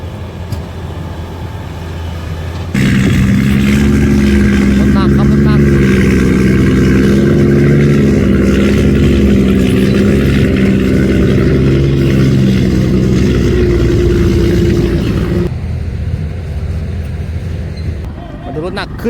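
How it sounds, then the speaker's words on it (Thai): A Sany SY500H 50-ton excavator with a 6WG1 engine digs weathered hard rock, its engine droning loud and steady under load for about thirteen seconds before cutting back, with voices talking around it. "เวลามันทำงานเนี่ยมันตอนมันตักเนี่ย เสียงเครื่องมันโหลดประมาณไหน"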